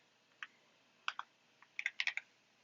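Fingers tap out a short code on a computer keyboard, a few isolated keystrokes followed by a quick cluster of crisp clicks, close and quiet with no talking.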